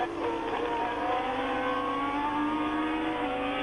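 Formula 1 race cars at the 1979 French Grand Prix give off a steady, high-pitched engine whine that holds loud and continuous with a slight rise in pitch, no voices over it.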